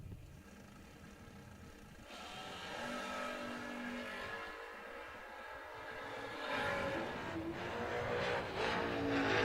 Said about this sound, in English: Birch wheeling the Overkill Motorsports Firebird dialed 619